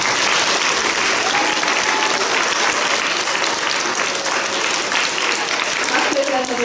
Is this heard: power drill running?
no